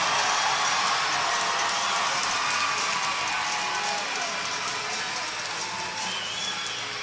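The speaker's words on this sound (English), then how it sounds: "Getting some energy here at the First Arena crowd." Hockey arena crowd at First Arena in Elmira, cheering and roaring steadily throughout as a broad, loud wash of voices during a minor-league game, with no individual voice standing out.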